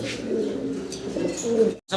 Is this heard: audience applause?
no